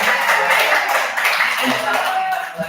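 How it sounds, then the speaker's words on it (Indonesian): A group of teachers applauds a colleague during a positive-discipline training session, a close, dense burst of clapping that fills the moment and tapers slightly at the end, with a voice briefly underneath. "Tepuk tangan buat Bu Ina."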